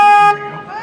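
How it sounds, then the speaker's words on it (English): A single loud, steady boat horn blast on a river lasting a fraction of a second, then it cuts off and leaves only low background rumble. "I have to honk the horn."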